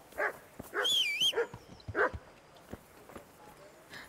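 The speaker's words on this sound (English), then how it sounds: "Hi dog." A dog in the medieval video game Kingdom Come: Deliverance gives several close barks mixed with a high, wavering whimper, followed by quieter soft thuds and steps.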